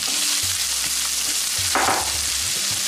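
Onions and a bay leaf sizzle steadily in hot oil in a pan for chicken tikka masala, with occasional stirring scrapes and no voices.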